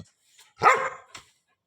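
A dog gives one loud, close bark with a brief softer yip just after, set against near silence.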